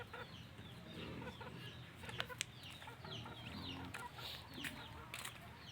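Chickens cluck at a small backyard farm with breeder hens and eggs, giving scattered soft clucks and brief calls at moderate distance over a quiet outdoor background, without talk.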